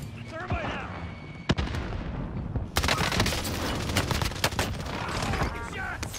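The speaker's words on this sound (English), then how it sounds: "Shots!" Rapid bursts of gunfire rattle through a Call of Duty Warzone match in Verdansk, a dense crackling fusillade that swells loud after a single sharp shot, with players talking over it.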